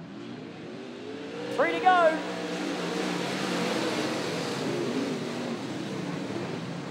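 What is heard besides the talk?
late model race cars racing at speedway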